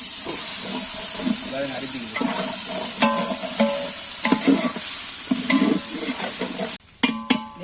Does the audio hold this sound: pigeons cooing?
no